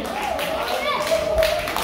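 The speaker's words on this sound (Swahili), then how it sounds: "makofi kwake tafadhali" Applause for a woman at a fashion show and cake fundraiser: brisk clapping from a crowd, mixed with taps, under a voice speaking.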